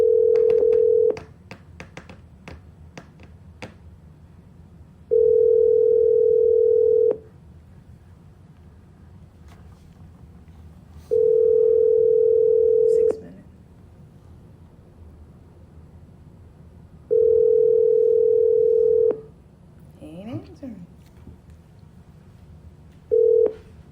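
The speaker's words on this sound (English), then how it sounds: "I'm calling Aaron. Hopefully he'll answer" A phone call rings out through repeated ringback tones, four steady two-second beeps spaced about four seconds apart with a short fifth at the end, clear and alone with faint clicks between.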